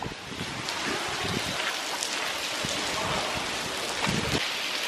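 Steady rain pours outdoors in Wales, a dense, continuous hiss of drops close by and fairly loud, with no voices.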